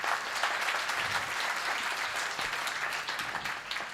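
A crowd at a Gujarati comedy show in Mumbai claps loudly and continuously, a thick, even burst of applause from a packed hall holding steady for several seconds with no speech over it.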